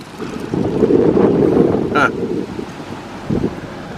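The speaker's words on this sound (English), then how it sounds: "Look at this wind. It's really picking up." Strong gusty wind buffets the microphone outdoors in a quiet rural East Texas town, a loud steady rumble with a brief distant tone in the middle.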